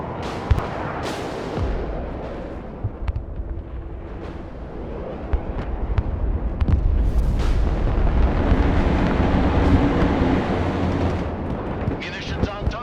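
An airstrike in the Broken Arrow war game sets off a dense, continuous barrage of munitions: heavy rumbling blasts and sharp cracks that swell in intensity, with a distant-sounding roar throughout.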